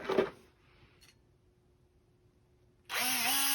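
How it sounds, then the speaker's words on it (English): A power drill whirs up to speed close by as it cleans out a hinge pin hole in a Toyota Camry center console, preceded by a short burst of drilling and a quiet pause. "this hinge pin hole just needs to be cleaned out just slightly. So I just drill it out like that to make sure it's clean"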